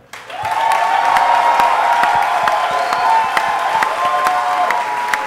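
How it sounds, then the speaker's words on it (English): A live audience in San Francisco breaks into sustained applause, dense clapping from a large crowd with scattered cheers and whoops, steady and loud throughout. "I would love a round of applause for Nick and Tim."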